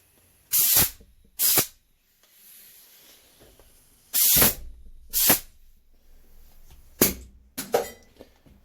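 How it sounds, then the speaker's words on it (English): Compressed air from a shop hose blows out an AN-fitting oil line on a Craftsman mower in several short, sharp hissing blasts, with quiet gaps and faint handling noises between them. "I have a hose right here. We can blow this line out."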